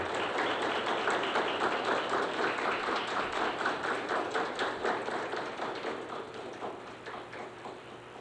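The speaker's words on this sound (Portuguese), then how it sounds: "eu gostaria de que todos dessem uma salva de palmas em memória dele" Sustained applause from an audience at a Scout Day ceremony in Brazil, honoring a deceased scout; dense, steady clapping fills the whole stretch, gradually thinning and softening toward the end with no talk over it.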